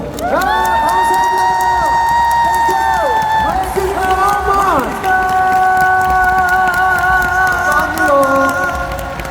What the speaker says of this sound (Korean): 그분들에게 한번 박수 한번 쳐 주시죠.